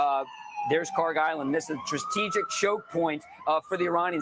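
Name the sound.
emergency vehicle sirens passing outside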